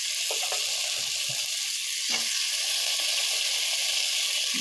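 Vegetables, kohlrabi and potatoes, hitting hot spiced oil in a pan for a prawn curry, giving a loud, continuous sizzle and frying hiss with a few brief stirring clatters.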